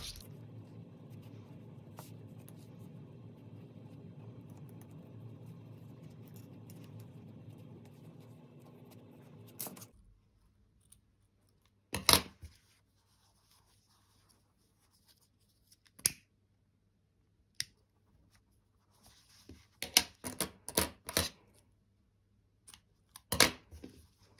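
Scissors snipping loose crochet thread ends on a round doily, a few sparse crisp cuts scattered after a stretch of low steady background hum, quiet and close with pauses between snips.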